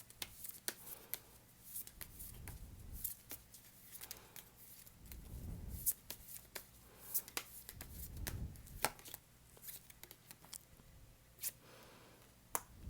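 Tarot cards shuffled and drawn during a reading: soft papery rustles, light slaps and sharp ticking clicks in an irregular run, close and quiet, with no voice.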